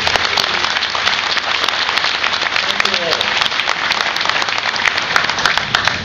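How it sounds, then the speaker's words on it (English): Loud, sustained applause from a ceremony audience at a CBOC ribbon cutting in Franklin, dense clapping filling the whole stretch without a break. "Let's give them a round of applause."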